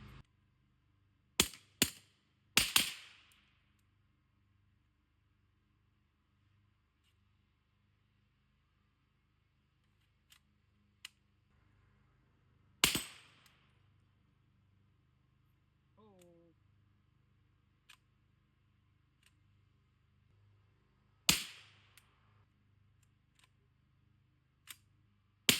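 Four suppressed shots from a 7.5-inch 300 Blackout AR wearing a Deadair Sandman S suppressor, two subsonic then two supersonic, ring out as sharp, isolated cracks spaced several seconds apart outdoors, with faint clicks and mechanical handling noises between them.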